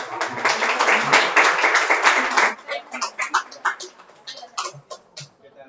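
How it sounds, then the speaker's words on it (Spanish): An audience at a talk on digital communication applauds as the next speaker is introduced, a couple of seconds of full clapping that thins into scattered claps and fades out. "voy a dar el pase a Manuel, vamos a recibir un aplauso."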